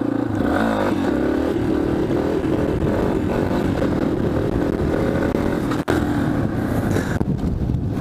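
Motorcycle engine in a video game, a loud continuous droning rev with shifting pitch, briefly cutting out before resuming with some clatter.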